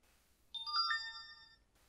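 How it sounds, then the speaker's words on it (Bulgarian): A short chiming alert sounds from a phone as an SMS code arrives, a bright ringing tone that swells and fades in about a second against near silence. "след няколко секунди би трябвало да получа код на моят телефон като SMS"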